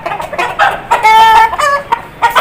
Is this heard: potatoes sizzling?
no